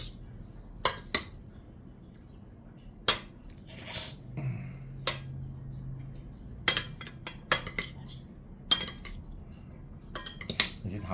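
Metal cutlery clinks and scrapes against a bowl while instant noodles with fried shallots are stirred together, irregular sharp taps and clatters close up, in bursts with quiet gaps between.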